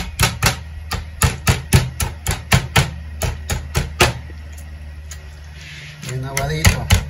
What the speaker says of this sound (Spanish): Este es el pulpito, que lo vamos a golpear un poquito para que esté bien aguadito, miren.